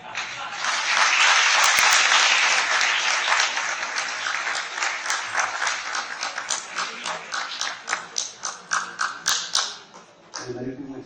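An audience claps at a spiritual discourse, with a dense burst of applause that thins into separate, rhythmic claps before fading out near the end.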